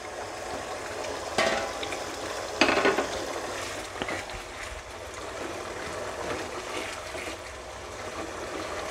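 Paneer stirred into a simmering curry in a pan, a soft continuous sizzle and bubbling with a couple of louder scraping clatters from the spoon, close up.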